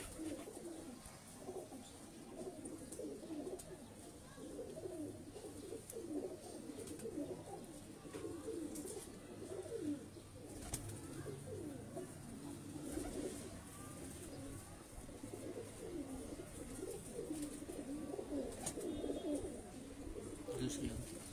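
Pigeons kept by a Pakistani pigeon fancier coo in soft repeated rolling calls, faint and steady throughout, with someone talking over them.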